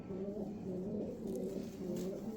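Domestic pigeons at a home loft coo continuously and close by, their soft layered calls overlapping without pause.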